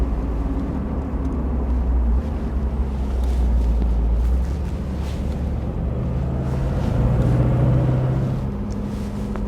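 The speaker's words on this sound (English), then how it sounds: "as you can see, we can drive very sportive with this W111" Mercedes-Benz W111 coupe, a hand-built classic S-Class with a V8, driven hard on a racetrack: a steady low engine drone that swells with revs and shifts pitch as it accelerates, heard from inside the car with no talk.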